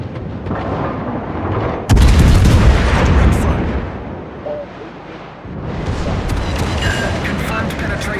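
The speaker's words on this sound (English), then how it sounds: "Hey, my torpedoes hit something." Torpedo hits in the naval video game World of Warships, a sudden heavy explosion that booms and rumbles loudly for several seconds before a second swell of blast noise, with a voice talking over it.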